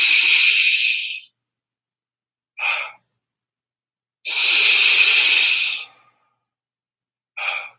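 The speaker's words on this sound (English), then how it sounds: "big inhale into the mouth or the nose here is fine. Really soft, almost sigh exhale." Deep breathing in a guided stretching session: a long, loud inhale, then a short, soft sighing exhale, repeated twice with silent pauses between, close and clear with no talking.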